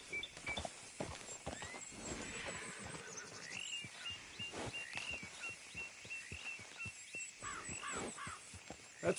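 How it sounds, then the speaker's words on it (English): Horse in Red Dead Redemption 2 whinnying over steady clip-clopping hooves, with crow caws and other ambient game sounds around it, fairly close and continuous. "That's a nice horse."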